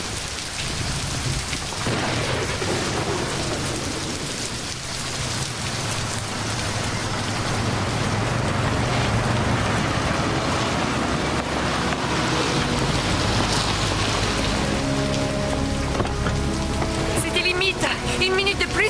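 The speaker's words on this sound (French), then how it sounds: "Je vous préviens, cette tempête s'intensifie." A strong storm at sea lashes down heavy, continuous rain with a deep rumbling undertone, loud and close throughout, while faint tonal sounds emerge near the end.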